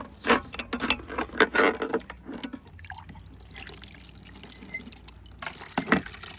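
Water splashing and dripping in a basin, with clattering handling in short bursts, then quieter trickling before another splash near the end.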